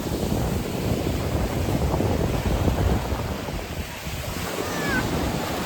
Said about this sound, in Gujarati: જો મસ્ત પાણીના મોજા આવે છે